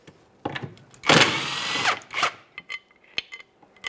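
A power tool spins out a cross member bolt on a 2011-2021 Jeep Grand Cherokee 3.6L V6, one sharp whirring burst of about a second with clicks and metallic clatter around it, close up in a quiet garage.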